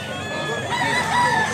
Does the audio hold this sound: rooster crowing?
yes